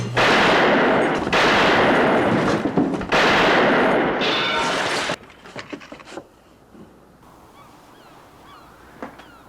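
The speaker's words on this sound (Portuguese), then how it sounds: "Os tiros chamam a atenção da cidade." Several loud bursts of gunfire in a cowboy western film, in quick sequence, dense and broadband, followed by quieter scattered sounds and faint distant knocks.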